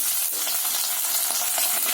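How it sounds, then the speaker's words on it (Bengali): Chopped tomato hits onions already browned in hot oil, giving a dense, loud, continuous sizzle with small crackles throughout, close up. "এবার আমি টমেটোটা দিয়ে দেবো।"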